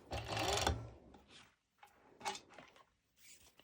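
A sewing machine runs a zigzag stitch over elastic for a halter neck top, first in a longer whirring burst, then in short mechanical stops and starts separated by pauses.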